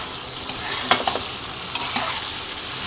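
Curry broth going into a pan of fried fish and spices, a steady close sizzle with a few sharp stirring clatters and scrapes, no talking.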